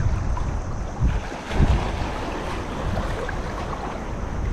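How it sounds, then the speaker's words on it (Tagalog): Sea waves wash and slap against a small fishing boat out on open water under cloudy skies, a steady broadband rush with wind buffeting the microphone and a couple of slightly louder surges. "Yung alon lang ang medyo malakas talaga."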